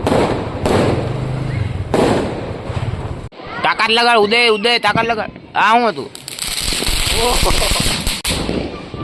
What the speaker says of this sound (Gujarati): આ બધે ફટાકડાનો અવાજ અવાજ આવે